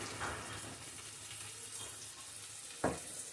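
Pakodi curry base frying in a pan gives a continuous soft sizzle and bubbling, with a few light stirring scrapes and one sharper clatter near the end.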